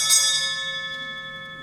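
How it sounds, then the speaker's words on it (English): A ship's bell rings once at a school spring band concert, a bright metallic strike whose clear ringing tone fades slowly over more than a second. "also, there's a ship's bell"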